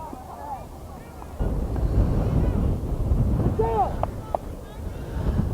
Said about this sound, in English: Wind has completely, or almost completely, changed its direction